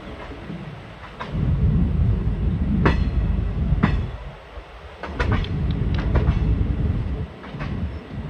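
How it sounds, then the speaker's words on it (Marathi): A train rumbles along steadily with low, rolling noise and occasional sharp clanks and rattles, fairly close, with no talking. "आज आपण पहिल्यांदाच प्रवास करीत आहेत बा आपण रेल्वेमध्ये"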